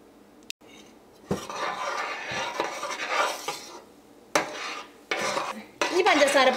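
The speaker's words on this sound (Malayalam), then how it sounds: "ഈ കട്ടയും കൂടി നമുക്ക് ഈ തവി വെച്ചിട്ടൊന്ന് ഉടച്ചെടുക്കണം" A ladle scrapes and clanks against a pan while breaking up lumps of sugar for Thirunelveli black halwa, irregular metallic knocks and stirring scrapes at moderate volume, with quieter pauses between strokes.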